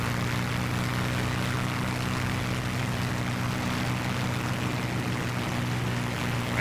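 Spitfire Mk IX piston engine during a landing approach in Digital Combat Simulator, a continuous droning propeller roar heard from behind, steady and loud throughout with no talk.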